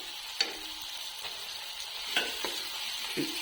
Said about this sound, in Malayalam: ഇങ്ങനെ കുറേശ്ശെ ആഡ് ചെയ്ത് ഇളക്കി കൊടുക്കാം.